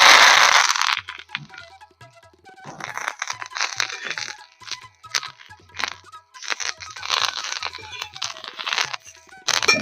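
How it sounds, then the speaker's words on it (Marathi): Curry leaves roasting in oil over a wood-fired stove for a spicy chutney, giving bursts of close crackling and crunchy popping that come in waves, with quieter gaps between them. "आता कडीपत्ता चांगला कडक भाजून घ्यायचा आहे म्हणजे चव येते त्याला खमंग लागतं"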